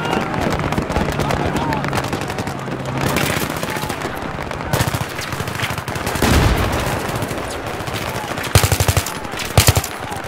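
Sustained automatic gunfire in Battlefield 3 combat, rapid bursts of rifle and machine-gun fire crackling continuously with louder close shots near the end, mixed with shouted voices and battlefield noise.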